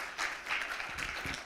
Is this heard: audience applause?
yes